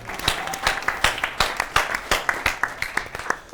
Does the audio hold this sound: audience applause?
yes